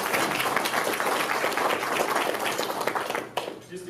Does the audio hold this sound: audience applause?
yes